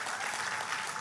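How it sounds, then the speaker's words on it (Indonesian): A church congregation applauds in a dense, continuous wash of clapping that lasts about a second, with no talking over it. "Tepuk tangannya pula yang paling meriah buat Tuhan."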